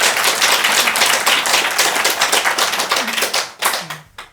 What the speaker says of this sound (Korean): 박수를 크게 쳐주세요